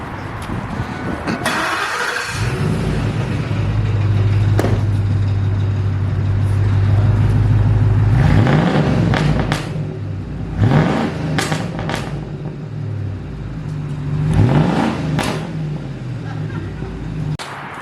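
A muscle car, a Chevy Camaro SS or Dodge Challenger, starts and idles with a deep, loud rumble, then revs in several rising bursts with popping exhaust crackles. People talk over the engine.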